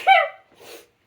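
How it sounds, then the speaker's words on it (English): One person lets out a single sharp sneeze up close, followed by a softer breathy exhale, with quiet all around. "Oh no, I'm gonna sneeze."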